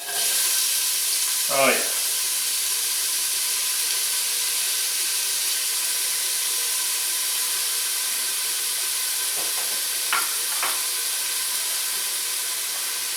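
Chopped yellow onion sizzles in hot olive oil with a steady, loud hiss that continues unbroken, while a brief voice cuts in near the start and again toward the end.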